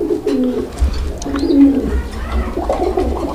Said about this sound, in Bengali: সিঙ্গেল নর গুলো ডাক দেখেন